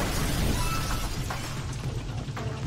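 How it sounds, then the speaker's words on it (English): Explosions in the video game Super Mario Odyssey, a dense run of booms and crackling bursts that rumble loudly throughout. "Let's see, what have we got going on here? Explosions."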